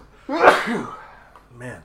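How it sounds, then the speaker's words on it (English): A man's single sneeze, sharp and close, with a bit of talk right after it. "I gotta sneeze."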